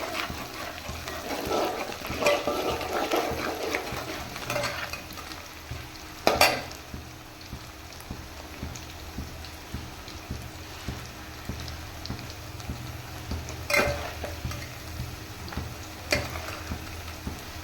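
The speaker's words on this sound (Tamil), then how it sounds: "வெங்காயம் எந்த அளவுக்கு வதங்குதோ அந்த அளவுக்கு குழம்பு டேஸ்ட்டாக இருக்கும்" Onions and garlic sautéing in a pan for a freshwater jilebi fish curry make a soft, steady sizzle, with occasional louder stirring scrapes and a few sharp clinks of the utensil.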